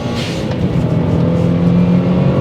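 Subaru Legacy B4 RSK driven hard on a back road, its engine roaring loudly and steadily under acceleration with strong wind and road noise close by.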